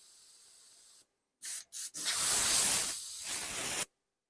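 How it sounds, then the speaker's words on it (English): Paint being cleaned off a motorcycle helmet with an airbrush, two short hissing spray bursts followed by a longer sustained close hiss, with quiet gaps between them. "clean the paint off."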